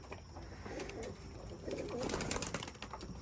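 Young racing pigeons coo in a loft at supper time, a soft continuous murmur of low throaty calls with steady background ambience and no talking.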